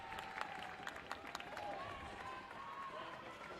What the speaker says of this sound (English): The Falcon crowd getting excited over here.